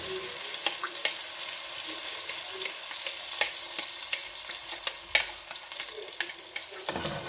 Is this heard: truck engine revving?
no